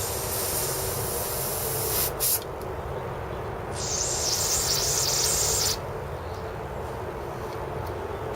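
Carb cleaner is sprayed into a lawn mower carburetor: a short hiss, then a longer two-second spray burst over a steady low background rumble.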